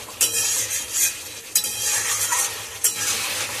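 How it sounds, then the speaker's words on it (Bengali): Meat being stirred and braised in a pan: repeated close scrapes and clatters of a spoon against metal, irregularly spaced over a constant low sizzle, with no talking. "দেখো মাংসটা কষানো"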